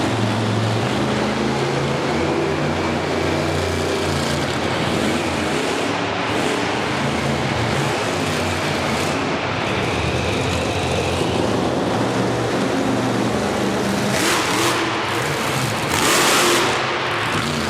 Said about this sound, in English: Dave really doing a nice job on the floor of the arena in the Star Marshal truck